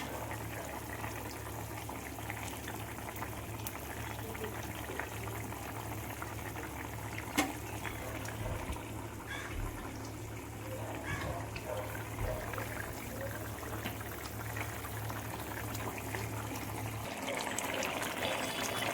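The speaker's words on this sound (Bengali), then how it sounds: "মাছগুলো দিয়ে অল্প একটু ফুটিয়েই নামিয়ে নেব" Fish curry simmering in a pot on a gas stove gives a steady, low bubbling boil, a continuous soft hiss and burble with a few faint clinks, holding evenly throughout with no talk.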